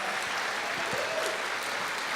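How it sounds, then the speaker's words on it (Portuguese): A church congregation applauds the fathers during a service, a steady, full round of clapping from a crowded room that holds evenly from start to finish. "Uma salva de palmas para os"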